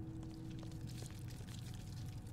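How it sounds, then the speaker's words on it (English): Faint, steady rushing water in the horror game Forbidden Forgiveness: a quiet, continuous watery hiss over a low droning hum, with no voices. "It sounds like rushing water."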